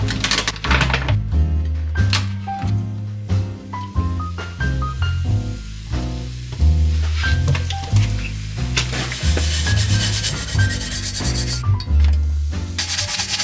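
A pan scrubbed clean with baking soda makes continuous rubbing and scraping strokes under loud background music with piano and bass, with no talk.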